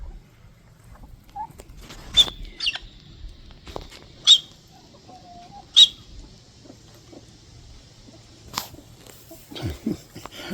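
A single gold hen, one of a small backyard flock, gives short high squeaks a few times at irregular intervals, each brief and fairly close, over quiet rustling and scattered small noises.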